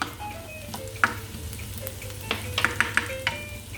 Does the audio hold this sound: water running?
no